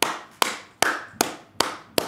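Six sharp hand claps in a steady, evenly spaced rhythm, close and crisp, with no voices.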